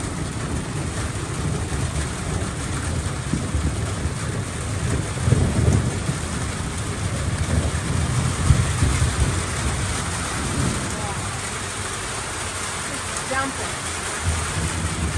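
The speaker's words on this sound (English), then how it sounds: "I can't believe how much it's rained." Heavy rain pours steadily through a Southern California thunderstorm, a dense broadband wash with low rumbling swells of thunder around the middle, people talking faintly underneath.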